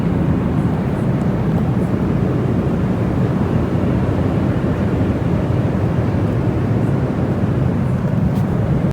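Steady, loud, unbroken broadband roar inside an airplane cabin in flight on the way to Cancun, Mexico, a low rumbling drone with no pauses.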